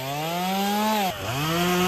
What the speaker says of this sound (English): You get it all the way cut with the chainsaw right there.